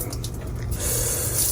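Water runs steadily from an outdoor shower at a beach house, a close, hissing spray that surges louder partway through and then keeps flowing.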